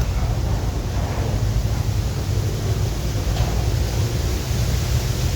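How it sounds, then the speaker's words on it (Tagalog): Steady, broadband roar of strong wind buffeting the microphone, continuous and loud with no pauses or voices. "malakas na yung hangin mga tol"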